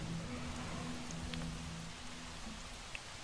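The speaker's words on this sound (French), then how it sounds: "la pluie fait son apparition les amis" Rain falling in the video game Jurassic World Evolution, a soft steady patter with a faint low musical hum underneath.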